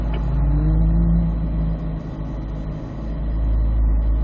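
A car on a figure-8 course gives a loud, steady engine drone that swells as it accelerates out of a corner, close up with no talking.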